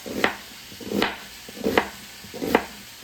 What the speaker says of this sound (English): So I'm just cutting a medium-sized onion here.